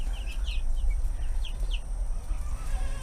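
Several high, short chirps from two-week-old chicks, scattered over a low steady rumble, fairly close.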